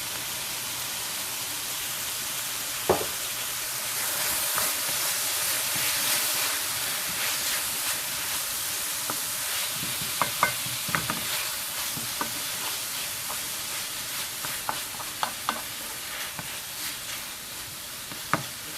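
A tablespoon of garlic sizzling in a pan for soup, a long hissing sizzle with scattered spatula taps and scrapes, close and steady without talk.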